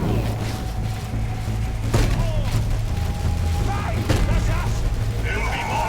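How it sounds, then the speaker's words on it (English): Bolter gunfire in Warhammer 40,000: Dawn of War III crackles in dense, rapid volleys with occasional heavier thuds and mechanical clanks, loud and continuous as a voice speaks over the battle. "These bolters are our weapons."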